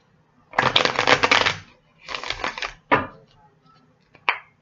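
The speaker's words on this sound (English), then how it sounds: "Two more shuffles." Tarot cards being shuffled close up, several distinct bursts of rapid riffling separated by short pauses, ending with a brief snap of the deck.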